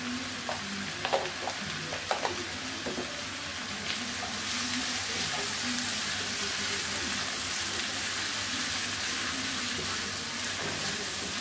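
Turmeric, salt and jackfruit seeds sauté in a hot pan, a steady close sizzle with a few light clinks and stirs early on, then a denser, continuous frying hiss.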